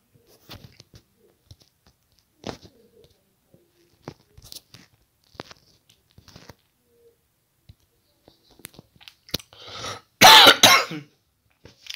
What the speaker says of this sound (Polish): Jak widzicie, kaszel mnie męczy cały czas.